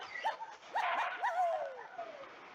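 Cartoon dog Pup from the farm puzzle game Farm Heroes Saga gives a few short, high yips and whimpering barks, bright and clear over a soft game backdrop.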